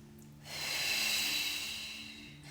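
A long, breathy exhale blown out through pursed lips during beginner Pilates mat work, close and fairly loud, swelling quickly and then tapering off over about two seconds against a faint low background hum.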